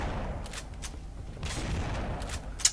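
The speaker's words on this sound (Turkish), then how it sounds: "Of ya, tüfek var elimde. Tüfek de çok etkili değil. Saçma atıyor." Shotgun blasts in The Punisher video game, several broad bursts spaced irregularly, fairly close and loud against a busy game backdrop.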